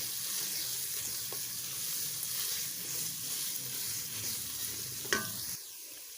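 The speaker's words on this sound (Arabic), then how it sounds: "نقلب الصلصه دي كويس قوي" Tomato sauce being stirred in a pan, a soft steady sizzle with a faint scraping stir throughout, a sharper clink near the end before the sound drops away.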